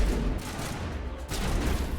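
Bursts of gunfire in the video game Mass Effect Legendary Edition, a dense rattling volley of shots that dips briefly midway and then resumes, loud and close with no talking.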